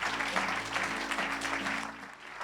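A church congregation claps together in sustained, dense applause that stays fairly even and moderately loud before easing slightly near the end.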